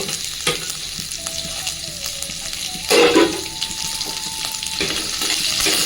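Dried red chillies and curry leaves crackle and sizzle in hot oil, a steady frying hiss with a sharp louder burst around the middle as they hit the pan, no one speaking.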